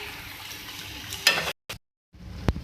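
Tinda curry being stirred and mixed in a pan, giving soft scraping and a light sizzle, with a couple of sharper utensil knocks and brief breaks of near silence.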